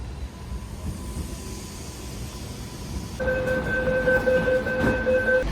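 Sydney train standing at Talawong Station, a steady low rumble with faint ambient hiss, then a sustained two-tone electronic chime or whine joins over the hum; no one talks.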